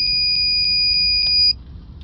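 A high, thin electronic beep from an automotive circuit probe touching a live fuse, repeating at a steady pulse, about five or six quick chirps, then cutting off against a low background hum.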